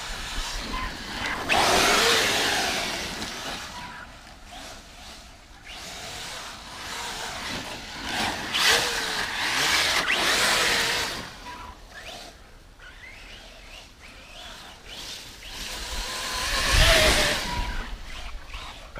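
A small RC car motor whines and surges in repeated bursts as it drives over tall grass, rising and fading with throttle, heard nearby and alone.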